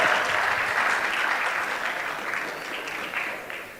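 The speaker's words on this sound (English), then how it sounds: "Give yourself a round of applause." Audience applause at a PRMG sales rally for 2026: a full, dense roar of many hands clapping, steady and loud, then easing slightly toward the end.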